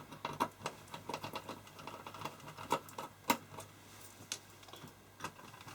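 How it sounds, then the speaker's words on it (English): Metal screws being taken out of the case of a Thurlby 1905A digital multimeter, heard as faint irregular ticks, clicks and small scrapes of a screwdriver working close by. "So we'll take out quickly the metal screws."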